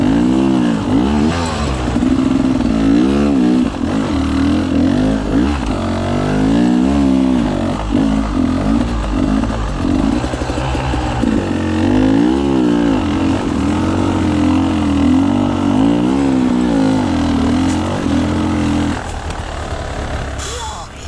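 A dirt bike engine at a hard scramble event chugs at low revs, a loud, continuous, throbbing rumble that rises and falls slightly throughout, heard up close with no talk over it.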